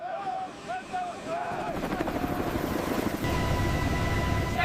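A military aircraft carrying troops drones steadily in flight, a dense continuous engine and airflow roar that grows slightly louder and fuller toward the end.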